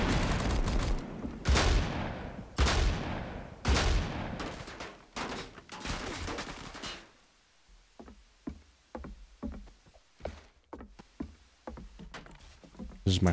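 Repeated gunfire in Roblox Siege: a run of loud, heavy bursts in the first seven seconds, then sparser, sharper single shots and short volleys, with some talk mixed in.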